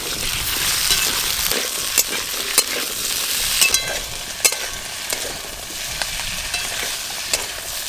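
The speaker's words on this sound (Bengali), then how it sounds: "আলু আর পুঁই শাকের যে ডাঁটা আছে, প্রথমে একটু ভালো করে নেড়ে নেব।" Potato pieces and Malabar spinach stems stir-fry in hot oil, a steady close sizzle broken by sharp scrapes and clicks of a spatula stirring the pan, with no talking.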